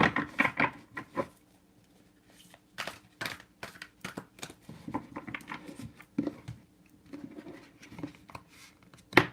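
A deck of tarot cards is shuffled by hand, giving quiet, close bursts of riffling, flicking and papery slapping separated by short pauses.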